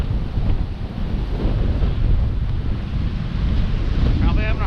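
Strong wind buffets the microphone in steady low rumbling gusts beside farm fields on a hiking trail, with a rushing roar throughout and no voices.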